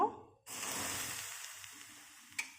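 Hot oil is poured into pakora batter of potato and onion, setting off a sudden hissing sizzle that slowly tapers away, with a small clink near the end.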